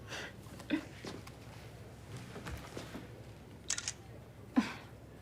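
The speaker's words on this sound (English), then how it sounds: "can I get a selfie with my hero?" A camera shutter clicks as a selfie is taken, a few short, sharp snaps close by, one pair in quick succession and a louder single click near the end, amid quiet room tone and soft breathing.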